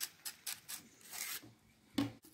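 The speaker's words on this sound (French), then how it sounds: "avec un couteau aiguisé, je racle le long de la côte pour enlever le maximum de fibres" A sharp knife scrapes fibres off a cardoon stalk in a run of short, rasping strokes, close and alone, with a brief slight pause midway.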